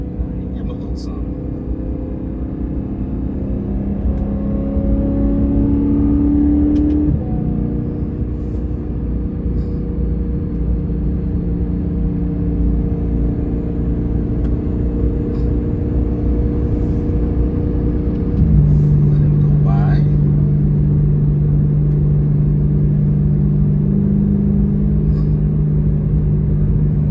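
A BMW E92 M3 with a Valvetronics exhaust burbles and drones steadily in the car, the engine note holding, then stepping lower around the midpoint, loud and continuous beneath the cabin.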